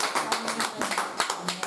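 A church congregation claps together in quick, irregular bursts, with voices mixed into the applause.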